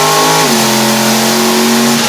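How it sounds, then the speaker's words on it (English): A car's freshly installed engine revs hard and close, its pitch stepping as the gearbox downshifts, then sustaining a loud, steady drone. "that thing sounds like it's revving up pretty fast"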